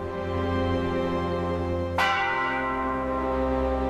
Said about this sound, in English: Church bells ring near ancient temples.